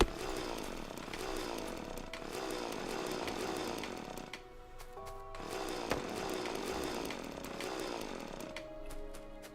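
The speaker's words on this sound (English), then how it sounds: "And with the chainsaw equipped," A chainsaw in the video game Factorio revs and cuts through trees, two long bursts of buzzing engine roar separated by a brief idle dip with clunky game effects, loud and continuous without speech.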